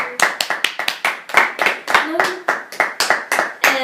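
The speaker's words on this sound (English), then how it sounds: "so we can please give them a round of applause" An audience claps after an interview on a show: steady, loud applause with quick, fairly regular claps made up of many hands, close by and continuing through the whole stretch.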